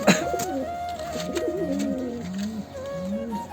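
Pigeons of an old breed line coo on a rooftop loft, a steady run of low, rolling coos close by with a faint background hum.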